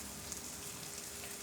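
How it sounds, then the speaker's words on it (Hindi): Tomatoes with coriander powder, red chilli powder and turmeric frying in a pan, a steady, soft, even sizzle with no voices, faint and constant throughout. "बस अब हमने इनको मिक्स करना है इसके अंदर और इनको अभी फ्राई करना है टमाटरों को"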